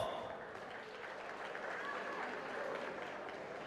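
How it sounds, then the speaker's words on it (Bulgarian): A crowd at a MAX FIGHT combat event applauds at a distance, a quiet, steady wash of clapping that fills the arena, with a voice coming through over it. "Аплодисменти за Виктор Димитров!"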